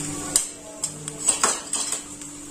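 A metal spoon clinks several times against a cooking pot while coriander, turmeric and chili powders go in for chole masala, with sharp light taps spread unevenly over a quiet kitchen background.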